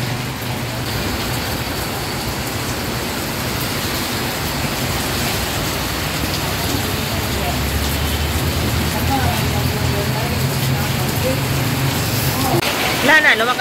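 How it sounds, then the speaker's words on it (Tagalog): Heavy rain pours in a dense, steady hiss throughout, loud and close, with no clear break from start to end. "lumakas na talaga yung ulan"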